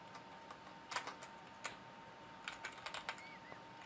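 Computer keyboard keys tapped in short irregular bursts at a desk, quiet and close, with a steady low hum beneath and no voices.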